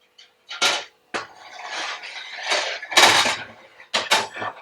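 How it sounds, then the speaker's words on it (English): A heavy Dutch oven clanks and scrapes as it is set into the bottom of a home kitchen oven, with a few metallic knocks and sliding rattles of cookware, close and fairly loud, with no talking. "This Dutch oven I keep at the bottom of the oven."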